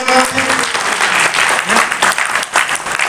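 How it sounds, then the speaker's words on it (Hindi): A crowd at a local political gathering in Delhi claps loudly in bursts, with a voice over a loudspeaker and murmuring mixed in beneath the dense clapping. "ताली बजाओ"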